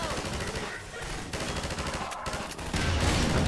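Gunfire in the video game Half-Life 2 during a fight against manhacks, dense rapid automatic bursts layered with loud game noise, continuous and close throughout.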